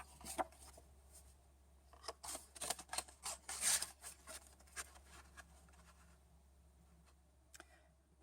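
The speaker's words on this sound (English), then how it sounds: "Punching these out" A handheld paper punch cuts shapes from paper in a quick, irregular run of sharp clicks and crunches, close and fairly quiet, with soft rustling between punches and no talking.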